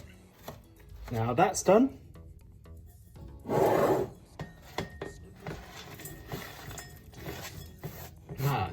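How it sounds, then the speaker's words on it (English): A knife slices through 150 grams of crystallized ginger with a few short, scraping, gritty strokes close by. A voice speaks briefly partway through. "150 grams of crystallized ginger, which you then have to slice"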